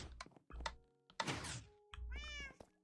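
A cat meows a few times in a video game, mixed with soft thunks and knocking sounds, close and fairly quiet.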